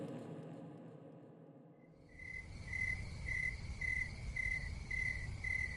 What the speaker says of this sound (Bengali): যেখানে একটানা ঝিঝি পোকা ডেকে চলে